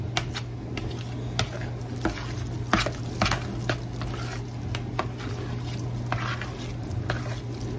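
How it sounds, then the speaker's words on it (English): A spoon stirs egg salad of chopped boiled eggs and Duke's mayonnaise in a bowl, giving a run of soft, wet squishing strokes and scrapes at an uneven rhythm over a low steady hum, with no talk. "And I'm going to stir this all up."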